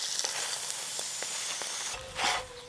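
An egg paratha fries in a hot pan with a steady close hiss and sizzle, rising into a brief louder spit near the end.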